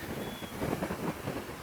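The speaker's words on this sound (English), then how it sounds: "The wind's kind of sort of coming down this way." Wind gusting at a coastal wild camp beside a sheltering rock, a low buffeting rumble against the microphone that swells and fades over a second or two.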